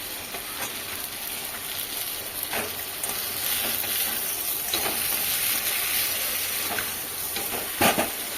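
Tangra fish frying in a hot pan with spices, a steady loud sizzle running throughout, broken by a few scraping stirs of a spatula, with no voices.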